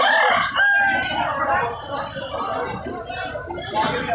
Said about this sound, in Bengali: দেখতে পাচ্ছ কত মুরগি।